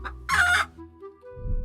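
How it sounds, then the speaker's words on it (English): A chicken gives a short sequence of sounds: a faint call, then one loud, bright clucking squawk lasting about half a second, followed by quieter low shuffling. No one speaks. "The chicken jumped onto the table and clucked once or twice."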